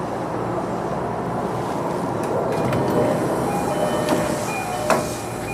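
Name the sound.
train arriving at Okutama Station, Tokyo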